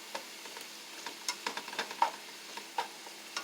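Yellow and orange bell peppers stir-frying for shrimp teriyaki, giving a quiet sizzle broken by scattered clicks and scrapes of stirring, with no talk.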